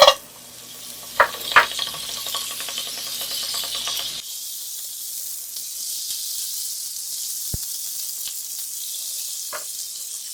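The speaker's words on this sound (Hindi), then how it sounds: "पैन के अंदर बटर डाल दें" Butter melting in a pan while making baked mac and cheese gives a few sharp clicks and clatters at first, then settles into a steady, soft sizzling hiss with occasional faint pops.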